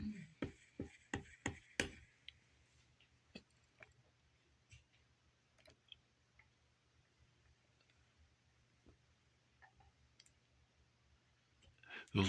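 Dry, unoiled shaft spinning on noisy bearings, giving a quick burst of sharp mechanical clicks at first, then sparse scattered clicks and ticks over a low steady hum, with a louder clatter at the very end.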